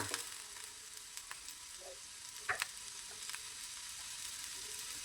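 Cumin seeds hitting a hot pan while sambar for a sprouted horse gram dish is being made, giving a steady close sizzle of frying with a few small crackles and stirring taps, and no talking.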